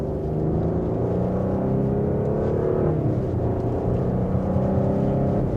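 A 2026 Audi A6 Prestige in dynamic mode pulling from second gear, its engine drone rising steadily in pitch as it gains speed, a smooth continuous hum heard from inside the cabin without talking.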